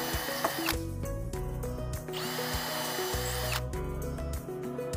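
Power drill pre-drilling screw holes in wood for a saw cart: loud, close motor whine rising and falling in pitch through several short bursts, with no talking.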